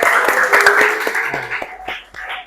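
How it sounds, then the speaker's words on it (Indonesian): Classroom applause for a student group during a civics lesson, a short burst of brisk hand clapping that tapers off within a couple of seconds. "Oke, aplaus untuk kelompok B."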